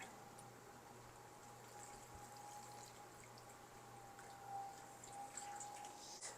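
Water pours steadily into a seed tray reservoir, filling it about halfway, with a continuous soft trickle and splash close by and no talking.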